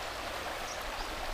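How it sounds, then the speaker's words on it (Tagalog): A river runs with a steady, broadband rush that stays the same throughout. It is fairly loud and close, and no voices or other sounds cover it. "So guys, nandito kami sa ilog."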